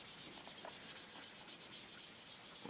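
Soft, steady rubbing of ink or colour across a card surface while making a handmade card, a continuous close-up scuffing texture with no talking.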